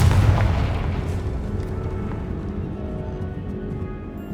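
A deep booming blast from the Confringo fire spell in Hogwarts Legacy, one heavy low-end explosion at the start that rolls off into a fading rumble and debris over several seconds.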